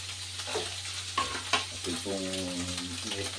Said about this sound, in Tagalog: Ito po yung ating piniprito muna ng sabi muna natin yan